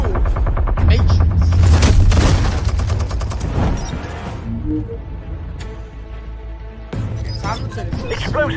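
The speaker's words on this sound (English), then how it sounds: "Oh god, it's a sentry gun." Sentry gun firing in the Telltale Batman video game, a rapid burst of shots with booming impacts early on, then fading into game sounds while a person talks over it.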